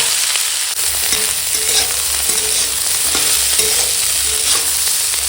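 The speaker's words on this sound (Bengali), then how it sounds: "এখন দিয়ে দিচ্ছি ফুলকপি দিয়ে একটু ভেজে নেবো" Cauliflower sizzles in hot oil seasoned with dry red chilli and bay leaf, a loud continuous close frying hiss broken by the scrape of stirring, with no talking.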